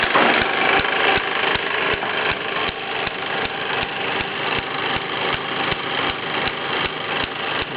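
Mamod SE2 and MM2 toy steam engines run together driving a Mamod workshop, giving off a fast, even mechanical chuffing with regular sharp beats over a continuous buzzing whir, close and fairly loud.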